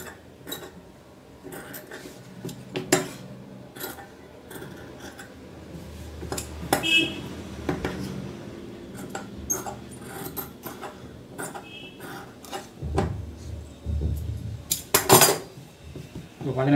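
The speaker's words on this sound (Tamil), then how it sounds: "இந்த லைனிங் அளவுக்கு அப்படியே கட் பண்ணி எடுத்துக்கலாம்." Scissors cut chudidar lining fabric at a tailoring table: sparse, sharp snips and small metallic clicks arrive irregularly, with some soft handling rustle between them.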